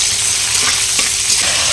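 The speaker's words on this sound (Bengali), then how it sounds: "গরম তেলে লঙ্কা জিরা আর রসুন থেঁতো দিয়ে দেবো।" Chili, cumin and crushed garlic fry in hot oil with a loud, close, continuous crackling sizzle and no voices.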